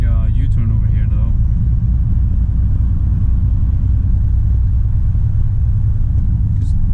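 A Volvo FM truck with a tandem drawbar trailer rumbles steadily through a U-turn on a snowy road, a loud, continuous low engine drone heard from inside the cab, with a brief voice at the start.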